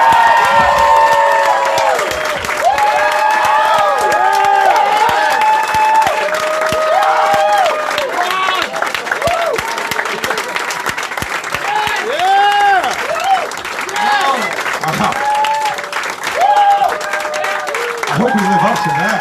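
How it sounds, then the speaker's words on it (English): Loud, sustained applause and cheering from a comedy club audience at The Stand in New York City greeting two comedians, with whoops and shouts rising over the continuous clapping throughout. "clap it up as loud as you can for Big J Oakerson and the one and only Ron"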